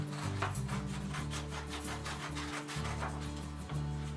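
Scissors cutting colored paper into skinny strips, a steady run of soft rasping snips close by with no talk.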